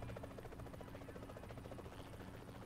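A helicopter in the PUBG Mobile game sounds a steady, continuous rotor throb with a rapid chopping pulse, loud and close throughout, with no talk.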